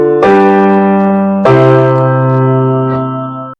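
Two sustained chords without harmonic extensions struck about a second apart, each ringing on with a bright, bell-like tone and slowly fading, no voices.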